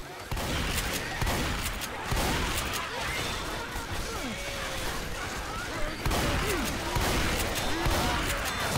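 Dense, chaotic gunfire in Left 4 Dead 2, rapid repeated shots layered over a busy din of game noise, with people talking under the shooting.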